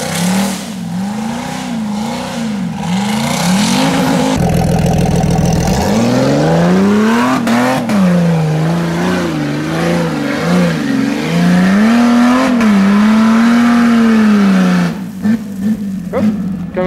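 An off-road vehicle's engine revs hard and close as it climbs a wooded hill, rising and falling in pitch with throttle changes, briefly bogging down mid-climb before pulling steadily on.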